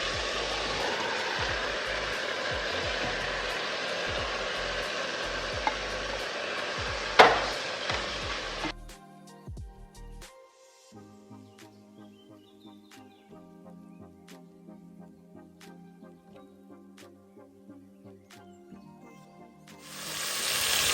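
Dry fish frying in a pan during sweet potato porridge cooking gives a loud, steady sizzle for about nine seconds, then drops away to quieter, sparse sounds.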